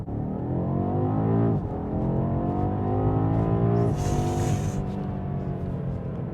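BMW M8 Competition engine revving hard under acceleration, a loud rising harmonic roar that drops briefly at a gear change and climbs again, with a faint high whine near the end.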